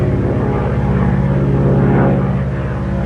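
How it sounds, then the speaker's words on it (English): A small propeller plane drones steadily overhead, a pulsing engine hum that holds at a constant, fairly loud level throughout. "speaking of small airplanes, there's one flying behind me. I'm sure you can hear it."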